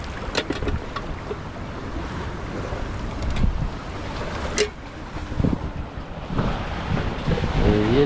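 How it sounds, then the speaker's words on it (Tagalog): Strong monsoon wind in the mountains of Dilasag, Aurora roars and buffets the microphone, with rough gusts rising and falling throughout and a faint watery wash beneath. "Tumihit ang hangin."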